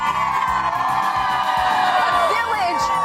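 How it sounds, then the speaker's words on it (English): A morning crowd in Cooperstown village, a small village of about 1,700 people, cheering and whooping loudly in a continuous roar of mixed voices, with higher shouts rising out of it. "Look at this crowd."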